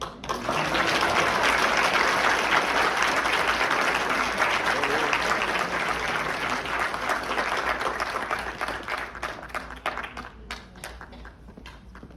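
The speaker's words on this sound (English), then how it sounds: "Give them a round of applause again." Sustained, loud audience applause fills a conference hall in Honolulu after a hula cultural presentation, dense clapping slowly thinning toward the end.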